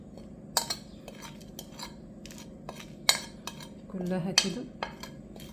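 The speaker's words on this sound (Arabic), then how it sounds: "دلوقتي هنقلب البهارات اللي احنا حطيناها كلها مع بعضيها" A spoon scrapes and clinks against a pot while spices are stirred for an Egyptian meat tagine, a few sharp metallic taps over a soft background, with a brief spoken phrase near the end.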